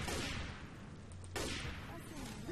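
Gunfire from the Left 4 Dead 2 video game in a busy co-op match, sharp broadband shots with a strong burst near the middle, layered over game noise and chatter from players.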